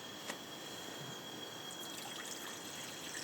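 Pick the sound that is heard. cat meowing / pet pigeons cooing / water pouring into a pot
water pouring into a pot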